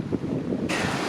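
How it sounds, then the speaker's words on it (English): Strong wind buffeting the microphone near water, with low gusty rumbles that swell into a louder, brighter roar partway through. "this wind is picking up again."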